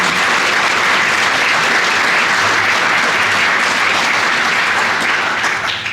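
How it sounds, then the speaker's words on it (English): An audience at an afternoon planning workshop claps for Ohio Lieutenant Governor Jon Husted, a loud, dense, sustained round of applause that stays even and begins to taper at the very end. "let's all give a round of applause for Lieutenant Governor Jon Husted"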